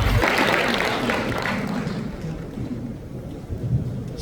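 Applause from guests at a year-end gathering in a Seoul hotel ballroom welcoming the Seoul mayor to the stage, a loud dense clapping burst that fades into a softer, thinning patter.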